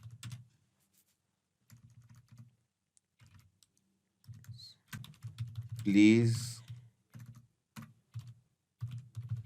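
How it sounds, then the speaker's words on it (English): Typing on a computer keyboard: sparse bursts of quick, light key clicks close to the microphone, broken by pauses, with a person speaking briefly midway. "So this is what I am typing right now"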